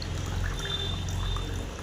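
Mosambi (sweet lime) juice poured steadily into a glass in a home kitchen, a continuous soft liquid pour over a low background hum, with no voices.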